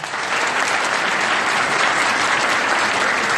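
Steady, dense applause from an audience at a Turkish municipal event for an independent mayoral candidate in Vakfıkebir, loud and continuous throughout with no break.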